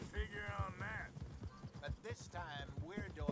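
A horse gallops in Red Dead Redemption 2, its rhythmic hoofbeats running steadily beneath a person talking throughout.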